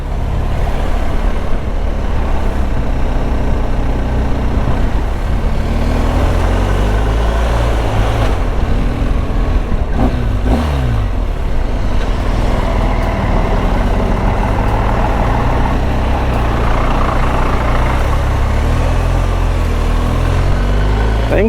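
A motorcycle riding through heavy traffic in Albania, with a loud continuous engine drone and road rumble, surrounded by the low hum of nearby trucks and cars.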